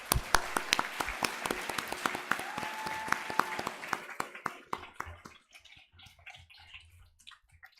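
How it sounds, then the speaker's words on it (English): A round of applause at a girls' leadership summit, dense clapping under loud hall reverberation for about four seconds before thinning out into scattered claps and quiet. "Can you please give them another round of applause?"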